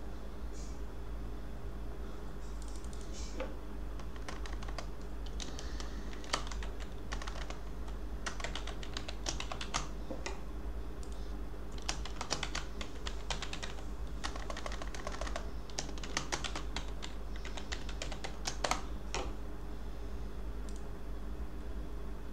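Keystrokes on a computer keyboard as a username and password are entered during a MySQL setup on Windows, in irregular bursts of clicky taps over a steady low hum, with no talking.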